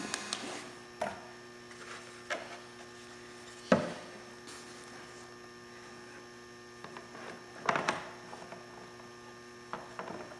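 Steady low electric hum of a Trend Airshield Pro powered respirator fan pushing air through the front of the visor, constant and faint, broken by a few scattered knocks and clicks.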